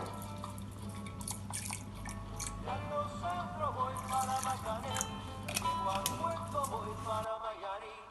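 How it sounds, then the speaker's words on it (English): Milk poured into a pan of rice for rice pudding, a continuous liquid trickle and splash lasting several seconds, fairly close, over a low steady hum that stops near the end. "Then I'm going to add some milk."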